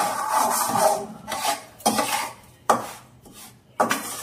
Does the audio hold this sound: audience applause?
no